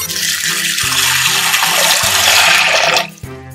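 Azuki beans are washed in loud, close running water that flows continuously for about three seconds before cutting off, with faint splashes after.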